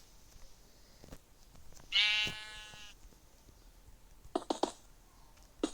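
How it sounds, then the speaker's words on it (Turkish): A single sheep lets out one loud, clear bleat mid-clip, set against quiet room tone with sparse clicks and light handling taps around it. "Koyun da bir susmadı."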